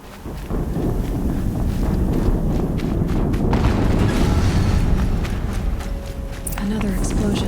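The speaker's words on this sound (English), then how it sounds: "Another explosion." Explosions in the video game Horizon Zero Dawn: loud, dense rumbling blasts that fill the clip, with clattering debris and battle noise layered over them.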